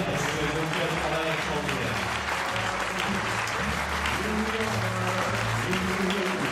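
A theatre audience applauds the actors after a play, with dense, steady clapping filling the room throughout while a voice speaks over it.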